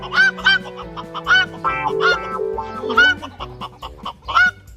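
Fowl call in loud, repeated honking bursts, close by and in quick succession, with a territorial rooster among them. The calls overlap over a low background hum.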